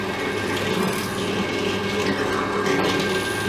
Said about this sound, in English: just using the drill bit, sort of like a milling machine